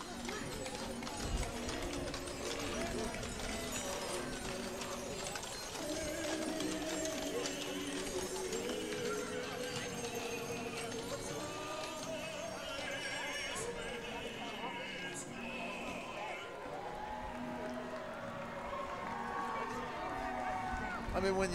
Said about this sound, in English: when you see the horses up close and personal, I mean, they are magnificent animals